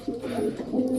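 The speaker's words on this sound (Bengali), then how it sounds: "আমাদের নতুন পায়রা তোমাদের দেখাতে হবে।" Pigeons cooing nearby, a couple of soft throaty rolling coos in quick succession, clear and alone without talk.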